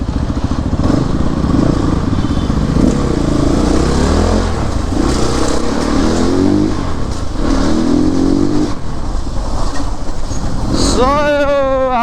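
A CrossX 300 motorcycle being ridden, its engine droning loudly and steadily with rising and falling revs, and voices talking over it.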